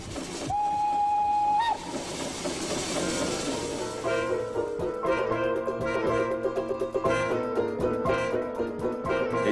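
Small Swiss locomotive running at low speed, opening with a sustained steady whistle, then rhythmic rattling clanks and rolling rumble of the train continuing loudly and close.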